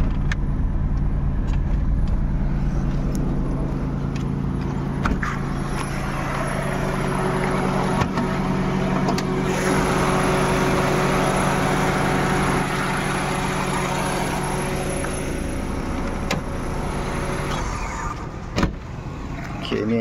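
Perodua Kancil with a 1.0-litre naturally aspirated engine and custom intake filter idling close by, a steady low rumble with faint clicks and a thin whine throughout.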